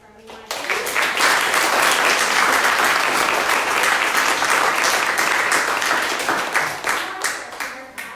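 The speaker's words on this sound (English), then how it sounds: "I do think it's just another round of applause for everyone" Loud, steady audience applause fills the room after a panel discussion event, starting abruptly and holding for several seconds before gradually tapering off near the end.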